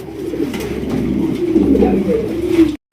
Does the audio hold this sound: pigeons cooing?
yes